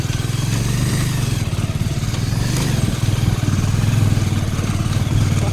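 Motorcycle engine pulling in second gear on a rocky off-road trail, a loud, close, steady drone with a throbbing low rumble throughout, no voices.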